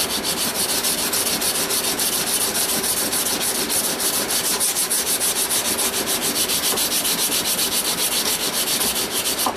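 Steady hand sanding along the flats of a knife blade, a continuous loud rasping rub with a fast back-and-forth rhythm, close up and alone with no talking.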